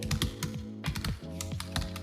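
Fingers tap a laptop keyboard in short quick bursts, a string of light close clicks with small pauses between words.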